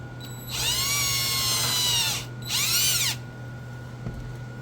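A power drill whines through leather while boring a hole for a rivet in a full-cover leather axe sheath, running in two bursts of roughly a second and a half and then one second, close and loud over a low steady hum.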